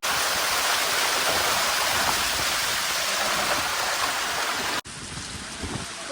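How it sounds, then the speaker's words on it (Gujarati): Heavy monsoon downpour on Girnar mountain at Junagadh, a dense, loud, unbroken roar of rain that drops briefly near the end and then continues slightly softer. "આ જુનાગઢમાં ધોધમાર વરસાદ છે"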